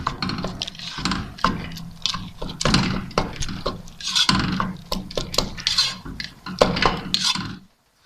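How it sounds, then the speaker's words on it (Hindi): Carrot rice pudding (gajrela) is stirred in a pot. A spoon scrapes and clinks against the metal in irregular bursts, fairly close, and the sound ends abruptly. "तो अच्छी तरह मिक्स कर लेते हैं।"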